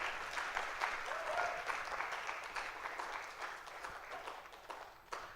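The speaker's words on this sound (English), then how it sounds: "Distinguished participants, ladies and gentlemen, a round of applause to Awet" An audience at an emergency-response symposium applauds a speaker, with steady clapping from many hands that holds throughout, then thins out toward the close.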